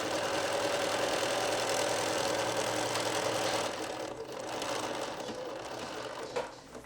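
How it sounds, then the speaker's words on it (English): Sewing machine stitching a French seam, a steady close mechanical whirr with a fast regular needle rhythm that eases slightly toward the end, no talk. "we're just going to sew down"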